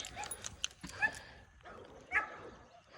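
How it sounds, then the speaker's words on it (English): Several dogs barking and yipping in the background during a dog behavioral training session, a few sharp barks spread irregularly, fairly distant and faint. "It's like everybody's barking."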